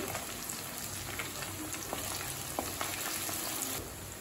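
Small shallots and garlic frying in oil in a pan: a dense, steady crackling sizzle like light rain fills the whole stretch, with occasional soft ticks of stirring, close and continuous with no talking.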